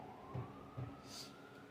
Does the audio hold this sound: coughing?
no